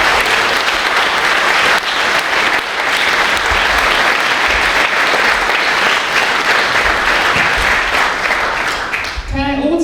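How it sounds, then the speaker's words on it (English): An audience at an awards conference opening breaks into loud, sustained applause, a dense wall of clapping that holds steady for several seconds before tapering off as a voice begins to speak at the end. "May I ask you all to give an applause to Mr. Sander and his team"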